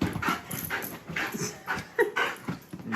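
A social working dog pants and whimpers up close, with quick breathy huffs and a few thin whines coming in an uneven rhythm.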